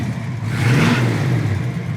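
A 1970 Ford Mustang Boss 302 engine revs up and eases back, a loud, close mid-pitched roar swelling over about two seconds with no voices.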